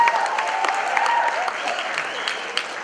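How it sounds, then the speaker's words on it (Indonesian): Stand-up comedy audience claps steadily for a few seconds, a moderately loud patter of many hands with a few sharper claps standing out near the end. "Tepuk tangan buat bangsa kita"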